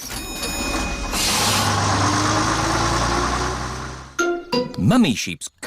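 A cartoon bus engine gives a steady, rumbling hum as the bus pulls away, holding for about four seconds before cutting off into brief animated sound effects and voices.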